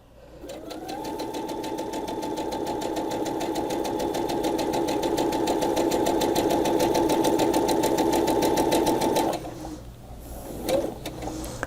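A sewing machine stitches a quilt block of fabric in one steady, close run of rapid mechanical whirring for about eight seconds, then stops, followed by quiet handling sounds.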